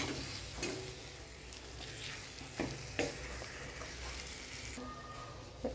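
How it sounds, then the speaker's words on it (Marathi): Bitter gourd pieces being stirred and sautéed in a spice masala, a steady low sizzle with scraping spatula strokes at a few points, fairly quiet and close with no talking. "आता ते कारल्याच्या फोडी आपण केलेल्या मसाल्यामध्ये परतून घेऊया चांगले।"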